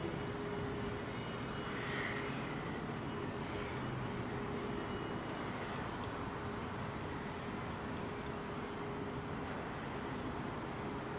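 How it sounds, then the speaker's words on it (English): Aircraft engines roar in a steady continuous drone at London Heathrow Airport, a broad constant rumble from a moderate distance with no talk. "Sounds and smells of an airport."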